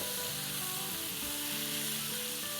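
Curry leaves dropped into hot oil for a quick raw-mango pickle, giving a steady, close, crackling sizzle that continues without any talk.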